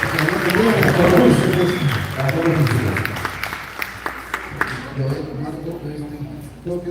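Audience clapping at a gala concert, a dense, loud burst of applause mixed with voices and musical tones that thins into scattered claps toward the end.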